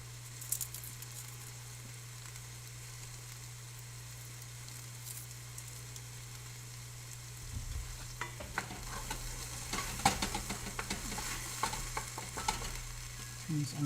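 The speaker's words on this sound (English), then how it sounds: "I want these onions to cook nice and slow." Onions cook slowly in a pan with a soft, steady sizzle. Partway through, a utensil starts stirring and scraping, adding irregular clatter over the frying.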